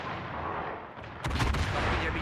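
Naval cannon fire in a video game naval battle: a sudden heavy booming blast after a quieter stretch, loud and close, with rumbling aftermath.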